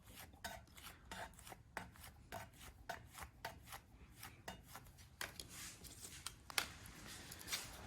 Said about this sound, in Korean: 카드로 밑에서부터 이렇게 쭉쭉 긁어 올리세요